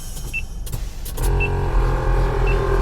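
Air suspension compressor on a bagged Honda Accord kicks on after a second and runs as a steady, loud motor drone inside the car, with a few short, high electronic beeps scattered across it.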